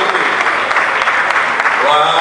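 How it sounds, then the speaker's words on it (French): A congregation applauds at a Salvation Army retirement celebration for two colonels in the DR Congo, the clapping dense and steady throughout, with a voice rising over it near the end. "On applaudit s'il vous plaît."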